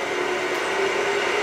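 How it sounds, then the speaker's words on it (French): Metro train rumbling along in the Traffic Giant simulation game, a steady mechanical hum with a faint sustained whine, continuous and even with no talk over it. "donc là, on a rejoint le métro"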